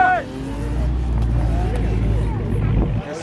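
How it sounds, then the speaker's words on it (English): A modified Infiniti G35 revs its engine at a car show, throwing out a loud, sustained low roar close by. Excited voices shout over it throughout. "Rev it! Rev it! Rev it! Let's hear that."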